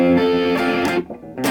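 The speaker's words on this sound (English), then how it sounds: "Switch to some distortion." An electric guitar played through a distortion pedal rings out a sustained, buzzy power chord that cuts off briefly and then comes back. It is loud and close, with no talking.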